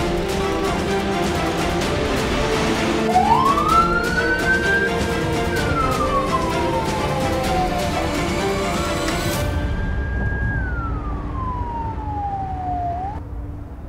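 An ambulance siren wails in long, slow rising and falling sweeps, loud and continuous over steady traffic noise, the tone cycling twice before cutting off.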